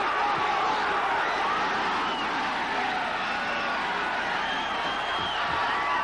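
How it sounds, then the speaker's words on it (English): A boxing crowd roars and cheers steadily throughout a 1983 bout between Bobby Chacon and Cornelius Boza Edwards, urging Chacon on with a dense, sustained wall of arena noise. "crowd urging Chacon on"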